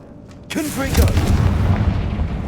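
A Confringo spell blast in Hogwarts Legacy erupts after a short shouted voice, a booming burst that gives way to a loud, rumbling roar that keeps going.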